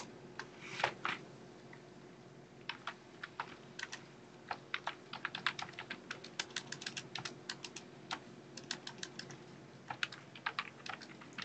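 Fingers type on a computer keyboard in a steady run of crisp, irregular keystrokes, close and clear, with short pauses between bursts and no talking.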